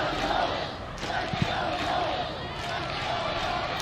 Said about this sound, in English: this guy's getting the crowd riled up